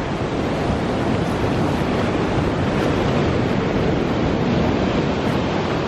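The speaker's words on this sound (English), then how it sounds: "let the water come to the tripod, let it fall away" Sea waves wash in and pull back around a tripod standing in the shallows of a beach, a loud, continuous roar of surf mixed with wind buffeting the microphone.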